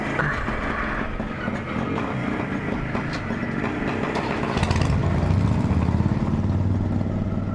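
A fully restored 1974 motorcycle engine runs steadily up close during run-in, a rough mechanical drone that shifts pitch partway through as it rises and keeps chugging.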